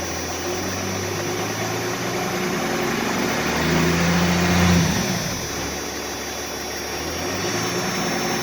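Engine of a 2nd gen Dodge Ram 2500 running close by, rising in a gentle rev midway then easing back to a steady idle, loud and continuous throughout.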